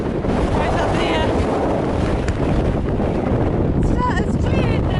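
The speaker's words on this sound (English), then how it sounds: "Still really windy" Strong wind roars across an exposed hilltop near wind farms in New Zealand's North Island ranges, buffeting the microphone in continuous loud gusts with a low rumbling blast throughout.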